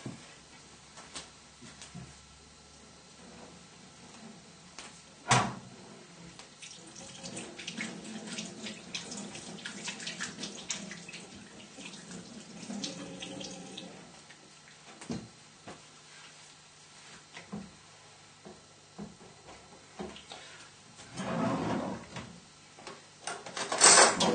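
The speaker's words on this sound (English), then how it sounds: "Now you can just go and give your hands a little wash." Tap water runs into a kitchen sink while hands are washed, a faint steady stream with splashes and occasional clunks of handling, one louder thump near the start, nobody talking.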